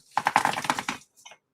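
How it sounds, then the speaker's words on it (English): A quick flurry of light clicking keystrokes on a computer keyboard, close and crisp, followed by a short pause and a couple of fainter taps. "it sounds like somebody's like playing cards or something. Yeah, playing on a keyboard"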